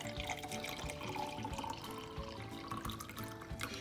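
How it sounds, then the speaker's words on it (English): Cold brew coffee is poured into a glass, a steady close liquid stream with light splashing running continuously under faint background noise. "Pour in that coffee."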